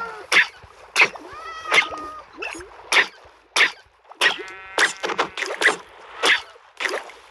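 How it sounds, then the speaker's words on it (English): Video game cats meow over and over in short, bright, evenly spaced cries, several overlapping toward the end, with no talking. "Oh, there's some cats."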